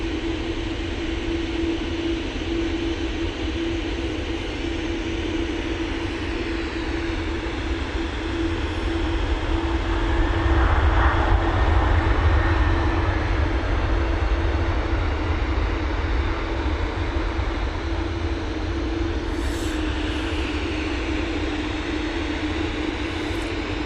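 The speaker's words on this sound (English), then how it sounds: "Aer Lingus A330 coming in now" Aer Lingus Airbus A330 airliner landing at Manchester Airport: a sustained engine drone with a steady hum that swells and peaks midway, then eases off, with no voices.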